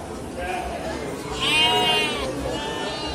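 Merino sheep bleat in the covered sheep and goat section of a livestock market on a morning, with several overlapping wavering calls, the loudest near the middle, over steady crowd noise and nearby voices.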